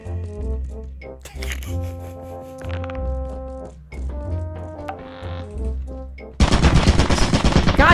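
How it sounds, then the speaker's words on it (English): A turret opens fire in a chaotic video game, a dense, loud burst of rapid shots that cuts in near the end after a stretch of layered game music and effects. "Turn off the fucking turret"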